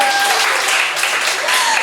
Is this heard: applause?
yes